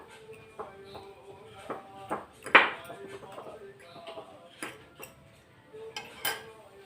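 Two forks shredding boiled chicken in a bowl or pot for a chicken vegetable soup, making scattered light metallic clinks and scrapes at an irregular pace, with faint shuffling between them.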